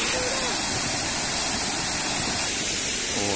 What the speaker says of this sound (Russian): Это водопад у речки той маленькой, которая проходила через город. И это самый высокий водопад в Латвии.